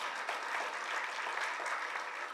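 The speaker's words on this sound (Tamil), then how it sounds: "நல்ல ஒரு கைத்தட்டல் கொடுங்க" An audience applauding at a speech event honouring actress Manorama, a continuous even burst of clapping from a large crowd, steady in level with no voices over it.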